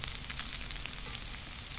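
Diced potatoes for a smoked bluefish hash fry in a pan, producing a steady, close crackling sizzle with small pops and no talking.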